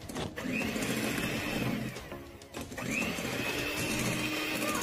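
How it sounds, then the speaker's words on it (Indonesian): An electric mixer runs at its lowest speed through flour batter, a steady close motor whir with a whining tone that rises and falls as the beaters move, briefly easing midway before resuming. "Kemudian di mixer sebentar dengan kecepatan paling rendah."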